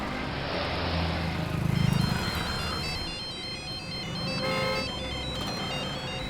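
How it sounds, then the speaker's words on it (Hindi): A phone rings on and on with no answer, a repeated electronic ringtone pattern playing over a steady background hum, moderately loud and with no voices. "दीदी फोन नहीं उठा रही।"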